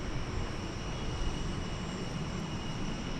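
An airplane taxis toward the cargo area at DFW Airport. Its jet engine makes a steady broadband roar with a constant high whine, heard at a moderate distance with no pauses.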